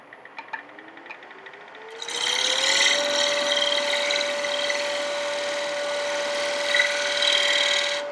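A woodturning gouge nibbles across a wooden plate spinning on a lathe, making a steady, loud scraping hiss that starts abruptly after two seconds and runs continuously, with a rising motor whine underneath.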